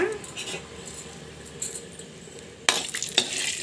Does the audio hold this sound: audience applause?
no